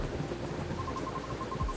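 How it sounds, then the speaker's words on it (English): Heavy rain pours steadily with a low rumble of thunder underneath, a dense wash of noise that stays constant and fairly loud from start to finish in the café game Coffee Talk. "It just thundered."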